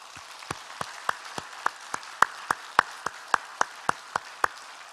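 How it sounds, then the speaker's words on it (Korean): A church congregation clapping in unison during a Sunday worship service: crisp, evenly spaced claps in a steady, slightly quickening rhythm, with nothing else heard between beats. "이 주님께 우리 감사의 박수를 올려드리십시다"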